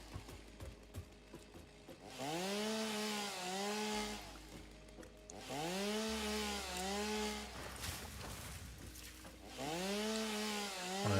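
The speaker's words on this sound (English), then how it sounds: "I'm really having fun cutting leaves with a chainsaw" A chainsaw in the video game Satisfactory revs through leaves in three long, loud, buzzing bursts with rising and falling engine pitch, separated by short quieter gaps.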